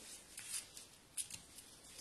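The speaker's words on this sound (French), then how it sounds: "on va venir avec les ciseaux venir couper au niveau du trait de pliure" Scissors snip along the fold line of folded paper while making an origami horse, giving several quiet, crisp cuts in short irregular bursts with no talking.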